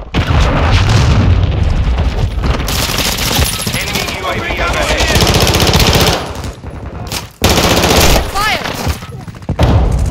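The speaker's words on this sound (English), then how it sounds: "Molotov out!" Heavy gunfire rattles through a Call of Duty Modern Warfare 2 Kill Confirmed match on the Shoot House map, with loud booms and bursts nearly nonstop, a thrown Molotov cocktail among them, and voices over the combat.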